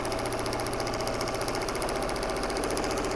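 Sewing machine running at a fast, steady pace while stitching a paper-pieced heart quilt block, a continuous close mechanical whir with rapid rhythmic needle beats and no pauses.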